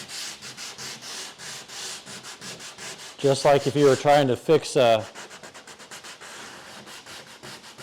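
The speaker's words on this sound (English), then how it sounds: "So I'm sanding out just a little bit past that." Rapid back-and-forth sanding strokes rasp steadily over a wet spot on wood, growing louder and harsher for a stretch midway; a voice speaks over part of it.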